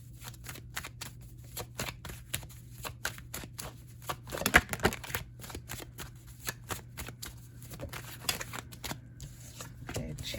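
A deck of tarot cards is shuffled continuously, with rapid riffling and flicking of card edges close by over a low steady hum, and no speech.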